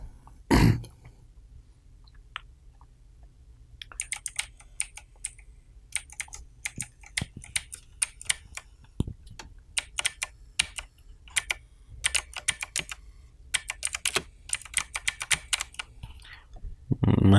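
Email ID typed on a computer keyboard while signing in to Microsoft Office 365: scattered key clicks that build into quick, irregular bursts of typing, close and fairly crisp, with faint throat sounds in between.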